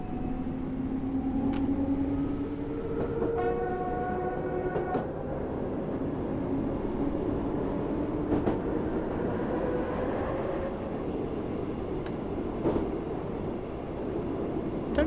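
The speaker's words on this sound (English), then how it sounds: "Still got to wait for the back of our train to come through there." A train rumbles past at steady volume in the Train Sim World game, with a continuous low roll, rising and falling tonal whines and occasional rail clicks, heard alone without talk.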